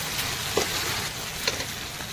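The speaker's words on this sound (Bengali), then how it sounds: "ভেজে রাখা চিংড়ি মাছগুলো আমি এতে দিয়ে দেবো, ভালো করে কষিয়ে নেবো" Whole prawns, fried earlier, sauté in a pan of potol (pointed gourd) curry, giving a steady low crackling sizzle with a few soft stirring knocks. There is no talk.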